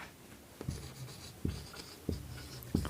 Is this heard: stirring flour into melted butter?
no